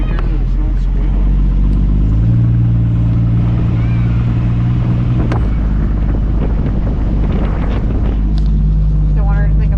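Engine of a 1965 Ford Mustang restomod running steadily with no belt squeal, a constant low rumble with wind buffeting at the microphone, heard close and loud throughout.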